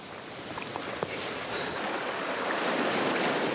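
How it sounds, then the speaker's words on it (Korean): Sea waves breaking against rocks on the coast of Ulleungdo island in early spring, a steady broadband wash of surf close to the shore, with wind noise buffeting throughout. "바위를 때리는 파도 소리도"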